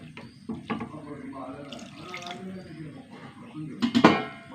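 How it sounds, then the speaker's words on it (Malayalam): Water splashes into a pot of curry seasoned with chili and sambar powder, a soft running pour under a murmuring voice. It ends in a brief louder splash. "കുറച്ച് വെള്ളം ഒഴിച്ചു കൊടുക്കട്ടെ കുറച്ച്"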